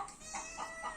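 A chicken clucks in a quick series of three or four short, faint calls, with no voices over them.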